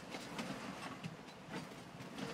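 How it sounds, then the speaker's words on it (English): A train passes in the Farming Simulator 19 video game, a steady rolling rumble with regular clickety-clack beats, heard faintly and without talk. "Ooh, train."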